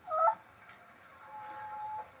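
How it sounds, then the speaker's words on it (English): Backyard chickens give a short burst of clucking near the start, and softer, drawn-out calls follow at a moderate distance. No one speaks. "And here's all the chickens."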